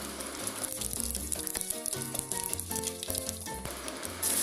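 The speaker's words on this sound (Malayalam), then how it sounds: "എണ്ണ നന്നായിട്ട് ചൂടാവുമ്പോൾ 1 ടീസ്പൂൺ കടുകിട്ട് പൊട്ടിക്കുക" Mustard seeds crackle and splutter in hot oil in a pan, a steady crackling sizzle with scattered pops under background music.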